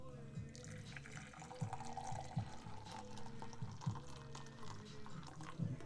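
Hot water poured from a kettle into an AeroPress coffee brewer on a scale, a steady close trickling stream with faint clinks throughout.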